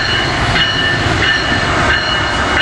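A passenger train led by an ACS-64 electric locomotive rumbles past up close and loud, with a steady roar of wheels on rail and faint squeal, no talk.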